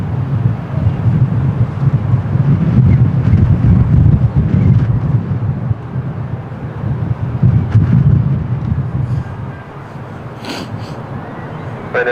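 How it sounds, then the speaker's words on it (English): Strong crosswind gusting at Lisbon Airport, a loud, steady low roar and buffeting of wind against the microphone that swells and eases over time, with a distant aircraft rumble mixed in. "even during the takeoff they are having crosswinds"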